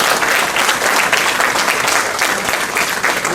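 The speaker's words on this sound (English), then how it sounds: "put a round of applause to all the interpreters" A conference audience at a disability advocacy event gives a loud, continuous round of applause for the interpreters, many hands clapping together in an even, unbroken wash.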